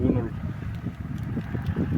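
Gusty wind buffets the microphone in a steady low rumble at an old house's foundation rebuilding site, with a muffled voice faintly underneath.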